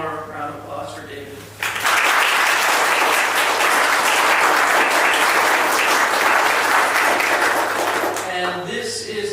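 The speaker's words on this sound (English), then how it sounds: "one more round of applause for David" Audience applause after a storytelling event on Raven as trickster and cultural hero, a dense loud burst of clapping that swells suddenly and holds for several seconds, with talk before and after it.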